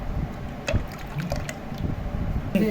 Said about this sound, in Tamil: இன்னும் ஒரு ஒரு அரை கப் ஊற்றிக்கலாம்